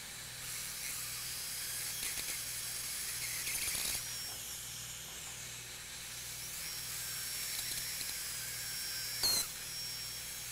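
A dental drill handpiece runs at full speed, opening a tooth for a root canal, with a continuous high-pitched whine and hiss, moderately faint, dipping and surging briefly as it touches the tooth.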